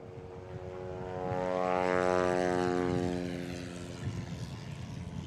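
A propeller airplane at the Rocky Mountain STOL competition throttles up for a short takeoff with its tail raised, the engine drone building to a loud peak around mid-clip and then easing back as it pulls away, with no talk.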